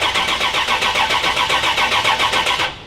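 A 1979 Pontiac Trans Am barn find cranks with a rhythmic pulsing starter whir, loud and close, then the sound drops off at the end.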